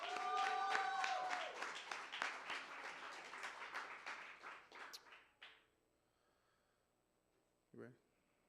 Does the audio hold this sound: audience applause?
yes